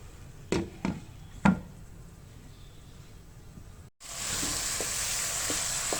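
Meat browning in a pan for chicken vegetable sabzi, a soft steady sizzle with a few sharp clinks of a utensil early on and a louder, brighter frying hiss after a brief gap.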